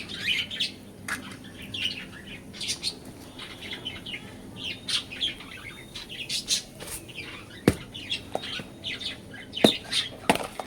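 Pet cockatiels chirp and squawk in frequent bursts while being fed seeds nearby, with sharp calls and an occasional flutter of wings throughout.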